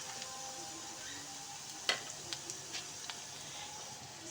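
Onions frying in a pan for a fried lady's finger, potato and poppy seed dish, a steady faint sizzle with a few soft clicks of stirring and no talk.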